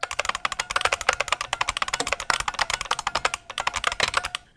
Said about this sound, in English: you can click on any keyboard and then type